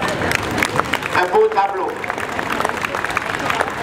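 Crowd applause at a harvest festival parade of vintage machines in Blodelsheim, dense clapping running under a voice speaking over it.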